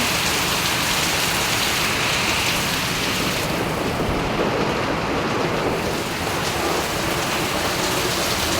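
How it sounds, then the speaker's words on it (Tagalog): Steady heavy rain pours down continuously, a dense close hiss of drops on surfaces that barely changes over several seconds, with no voices. "Ayan na, ulan."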